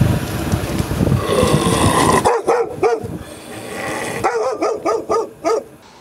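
Stray dogs bark in a city street in Magadan. A muddled noisy stretch gives way to a series of loud, sharp barks, some in quick bursts.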